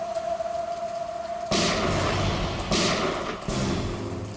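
Three loud gunshots fire at roughly one-second intervals amid heavy rain in a crime drama, each a sharp booming crack with a lingering tail.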